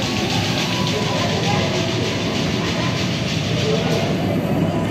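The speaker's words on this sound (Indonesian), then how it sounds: "Ini dia kereta Argo Sindoro berjalan di jalur double track, kecepatannya terbatas" The Argo Sindoro train rumbles steadily along a double track at restricted speed, a dense continuous roar with faint rhythmic clatter and hiss, heard close from on board.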